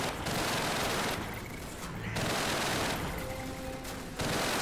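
Heavy gunfire rattles through a Call of Duty 3 battle. Loud, dense bursts of rifle and machine-gun shots come in waves, with brief lulls between the volleys.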